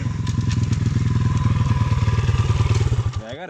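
Small pit bike motorcycle engine revving hard and steadily while riding a dusty trail at night, a loud continuous pulsing drone close by that dips and wavers near the end.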